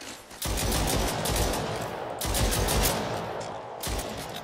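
Gunfire in the sci-fi video game Exome as a player shoots at an alien, with dense, sustained bursts of loud automatic fire running through the clip and brief pauses between volleys.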